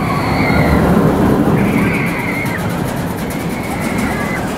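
Roller coaster train at Walibi Holland rushing past as a loud, steady roar with rattling and faint distant screams over it, sustained throughout.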